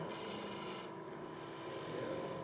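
A hand tool rasps steadily while hollowing out the end grain of green wood, a continuous close scraping and rubbing with no pauses and no talking.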